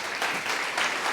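Audience applause at a talk event, a brief burst of clapping heard alone, moderately loud and steady.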